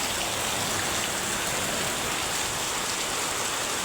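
Steady rain pours down over water collected outdoors, a dense, even hiss with no breaks, loud and close throughout.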